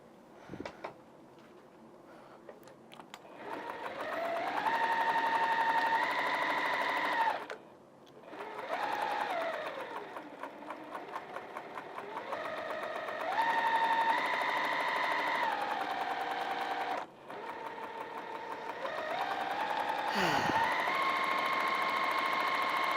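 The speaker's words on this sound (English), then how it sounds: "now we're going to sew all the way around again" Sewing machine stitching continuously around a piece of fabric, running in long steady buzzing stretches with brief pauses and speed changes between passes, close and loud throughout with no talking.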